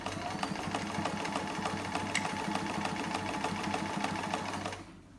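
Sewing machine running steadily while zigzag stitching a fabric chair pouch, a close, even mechanical whirr with rapid needle ticks that continues without a break and then stops near the end.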